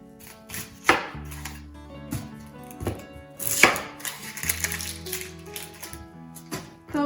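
A knife chops vegetables into quarters for turkey stock, landing several sharp, irregular thuds on a board up close, over background music.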